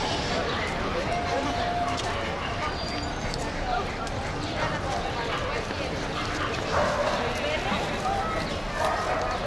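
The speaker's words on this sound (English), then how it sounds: "there are a lot of dogs in that little dog park, off-leash park" Dogs in a busy off-leash city dog park in La Condesa, barks and yips scattered at a distance over steady outdoor crowd and street noise, with people talking throughout.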